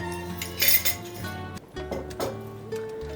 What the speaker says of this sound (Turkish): Hepsini şöyle güzel karıştırıyorum.